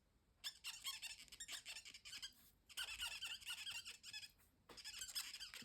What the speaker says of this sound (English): sorry about those squeaks